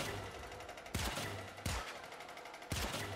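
Three sharp gunshots in the video game Warframe ring out at uneven intervals, each a loud, close crack over a steady background hum.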